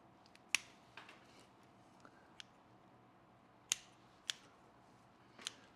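Pruning shears cutting branches on a ficus bonsai: a handful of crisp, separate snips spaced irregularly over a few seconds, close up and quiet otherwise.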